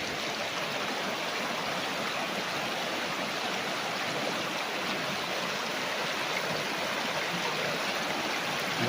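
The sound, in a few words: strong river current flowing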